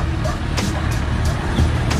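A Yamaha Aerox 155cc scooter engine revs in steady, sustained bursts close to the microphone, with the RPM held high and people talking over it.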